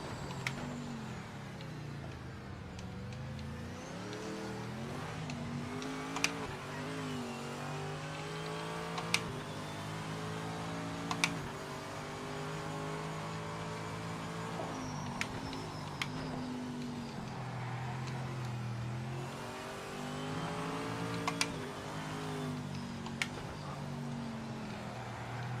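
Race car engines in a racing simulator hold a steady, heavy drone with slowly rising and falling pitch as gears shift, joined by occasional sharp clicks, continuous and fairly loud with no talk.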